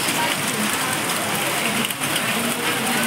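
Heavy monsoon rain pours down in a steady, dense hiss outdoors, unbroken and loud throughout.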